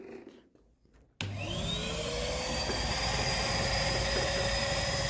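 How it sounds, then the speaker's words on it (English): A vacuum cleaner starts up abruptly after a quiet moment and runs steadily with a loud whining roar, close by, while cleaning out a Jaguar XFS 3.0 interior. "get the hoover in and get whatever I can out the bottom"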